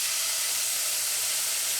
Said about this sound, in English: And in go the tomatoes.